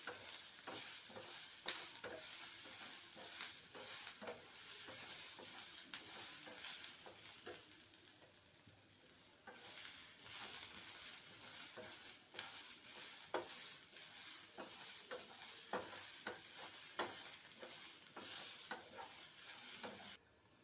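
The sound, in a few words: lentils being stirred and roasted in a pan until reddish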